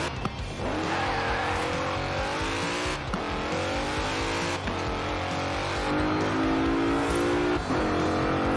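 A Mercedes-AMG GT 63 S in Forza Horizon 4 roars steadily and loudly, its engine note climbing through repeated rising pulls with brief shift dips and some tire squeal, heard alone without talk.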